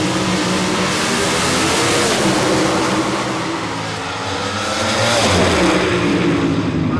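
Frank Manzo's drag racing car roars down the strip on a run at 258 mph, a loud, sustained engine blast that holds steady, dips briefly, then surges again with rising pitch, heard alone without voices.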